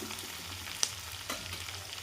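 Coarsely ground chana dal sautés in a pan with a soft, steady frying hiss, broken by a couple of light scraping stir clicks; quiet and close, with no talk.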